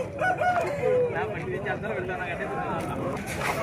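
A rooster crowing at a busy chicken market, partly masked by nearby talking and crowd noise, with the crow rising and falling early on.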